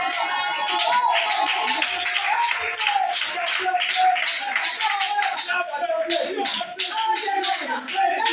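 A church congregation claps together in acclamation of the Lord, a dense, even patter of hands with voices mixed in throughout.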